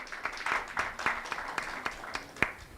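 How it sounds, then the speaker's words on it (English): A conference audience at the Resurgence Conference launch in eThekwini gives brief, scattered applause, a thin patter of separate hand claps rather than a full ovation, fairly quiet and short. "So I think that deserves a round of applause for eThekwini."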